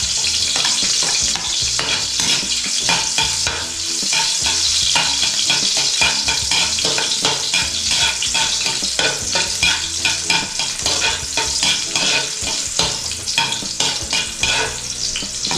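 Garlic frying and stirred in a hot pan, a steady loud sizzle broken by repeated scraping stirs throughout, with no talking.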